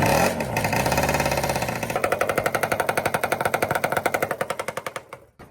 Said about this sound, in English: That sounds like a 250R, 1-cylinder banger